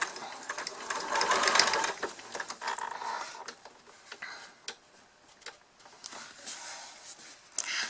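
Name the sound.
sewing machine back-stitching over elastic on fabric face mask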